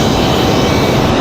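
Copa Airlines jet on its takeoff run at Raleigh Durham airport, a loud, steady broadband engine roar that holds without pause and with no voices over it.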